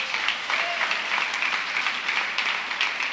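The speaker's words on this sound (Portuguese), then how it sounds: "Vou dar um aplauso ao Senhor pela vida deles." A congregation applauds during a church service, a dense, even wash of clapping from many hands that holds steady throughout.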